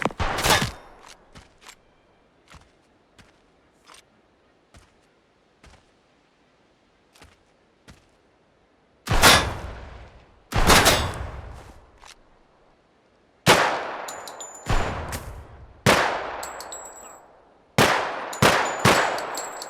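Gunfire in the video game Project Silverfish: scattered single shots early on, then loud bursts of rapid automatic fire with sharp echoing tails, close and punchy.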